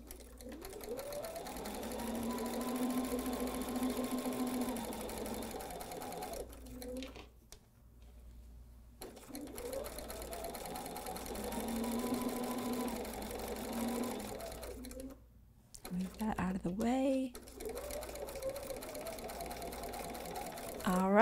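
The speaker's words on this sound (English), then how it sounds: "Let's see if I can take two stitches forward and two stitches back this time like I planned last time." A sewing machine stitches a quilted table topper in several runs, a close, steady mechanical whir broken by short pauses, with soft speech in between.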